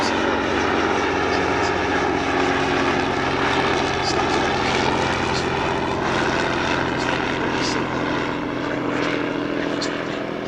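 A Bristol F.2B Fighter biplane powered by a 275 horsepower Rolls-Royce Falcon 3 engine flies at an airshow, its steady, loud propeller drone filling the whole stretch while an announcer talks over it.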